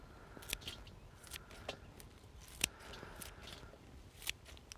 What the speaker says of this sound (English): I find that it's easiest to just harvest it straight with some scissors into the salad.